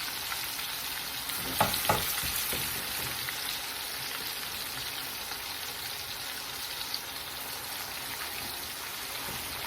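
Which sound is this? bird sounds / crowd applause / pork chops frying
pork chops frying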